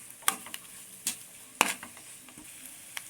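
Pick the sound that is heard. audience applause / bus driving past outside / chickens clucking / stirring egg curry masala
stirring egg curry masala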